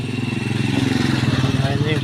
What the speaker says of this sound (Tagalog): Ayun yung mga motor.